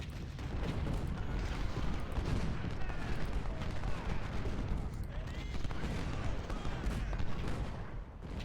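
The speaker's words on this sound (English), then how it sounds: "I'm going to turn these 20-pounders around. I want to be firing on his artillery" 20-pounder artillery cannons fire in a Civil War strategy video game, a continuous rumbling barrage of booms and crackling gunfire layered densely over the whole stretch.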